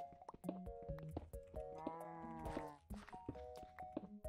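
Farm animals from a video game, with bleating and mooing calls in short repeated cries and one longer call in the middle, fairly quiet.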